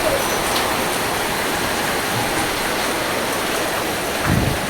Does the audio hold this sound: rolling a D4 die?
no